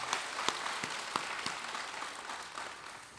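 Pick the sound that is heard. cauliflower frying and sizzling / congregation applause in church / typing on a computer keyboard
congregation applause in church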